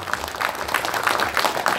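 Short burst of applause from guests at an Ansan city football association appointment ceremony, moderately loud clapping from a modest crowd, no talk over it.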